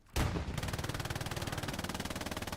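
Video game machine gun fire in a Hell Let Loose-style battle on Elsenborn Ridge: one sharp onset, then a rapid, steady, evenly spaced burst of rounds that keeps going to the end.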